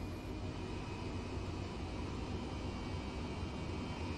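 Airbus H135 helicopter engines running in Microsoft Flight Simulator, a faint, steady turbine drone with a constant broadband rush and a thin whine above it, unchanging throughout.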